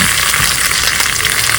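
Grated coconut fries in oil for jackfruit biryani, making a loud, continuous, close sizzle throughout.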